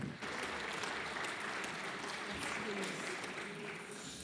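A conference audience claps steadily from start to finish, a dense wash of applause in a large hall, heard at moderate distance and fading slightly at the end.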